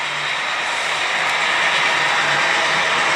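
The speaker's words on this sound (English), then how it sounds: "Here, the LMX train going around the loop." A model train on the Tehachapi loop layout at a model railroad museum gives a continuous, fairly loud, even rushing rumble with no distinct clicks or breaks.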